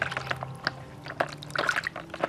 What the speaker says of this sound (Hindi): इन ढक्कन को बारी बारी पानी में ज़ोर ज़ोर से हिलाएं